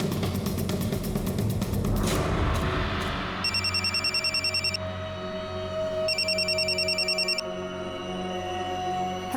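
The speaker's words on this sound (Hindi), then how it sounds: "इस नंबर पे फोन लगा के देखो।" A telephone rings after a number is dialed, two bursts of rapid electronic trilling separated by a pause, following a rumble of engine noise in a crime drama scene.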